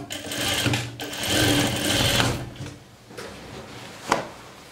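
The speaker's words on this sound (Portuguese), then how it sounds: "Depois de alfinetado, costura até embaixo" A sewing machine stitches a seam on a beginner's jumpsuit in a couple of fast buzzing runs, then stops with a few clicks and handling knocks.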